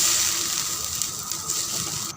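Tamarind water poured into a pot of garoupa asam pedas, a steady, loud, hissing stream of liquid that runs continuously and cuts off at the end.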